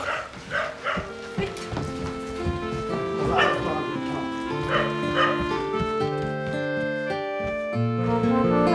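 A dog yips and barks a few times in short bursts over a busy background of music and voices.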